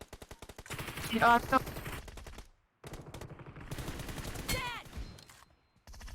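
Rapid automatic gunfire in PUBG Mobile, dense bursts of close, loud shots broken by brief pauses, with a voice speaking over part of the firing.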